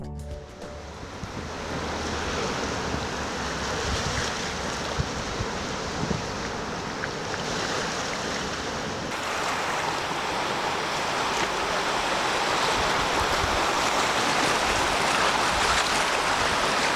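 Ocean surf along a coastal walking path just south of Bondi Beach, a steady broad roar of breaking waves with wind buffeting the microphone, loud and continuous throughout.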